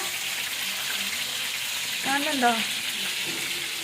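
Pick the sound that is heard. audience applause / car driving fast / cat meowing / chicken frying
chicken frying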